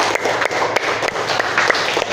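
Applause from a class of mathematics students at the end of a lesson, a steady broad wash of clapping filling the whole moment without speech.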